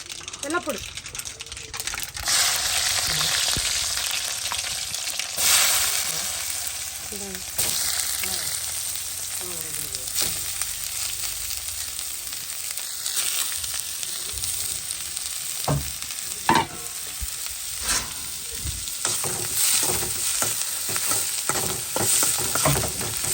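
Mustard seeds splutter in hot cooking oil, a continuous close sizzle broken by sharp crackling pops and scattered clicks, with a person talking intermittently over it.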